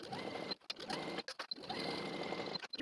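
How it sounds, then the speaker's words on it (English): Sewing machine stitching pant seams with a 3/8 inch seam allowance, a close, continuous mechanical whir in bursts broken by short pauses, with no talking. "take it to your machine and sew with a 3/8 inch seam allowance and then serge"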